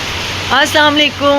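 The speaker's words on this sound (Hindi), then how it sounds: "आज भी आपने वेदर देखा काफ़ी ज़्यादा बारिश हो रही है" Heavy morning rain in Malaysia pours down as a steady hiss, with a person talking over it.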